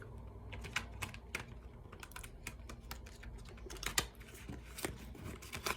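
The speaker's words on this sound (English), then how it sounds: "Just shuffling the deck." A deck of tarot cards being shuffled by hand, soft, quiet clicks and riffling taps in an irregular rapid patter, close by with no talking.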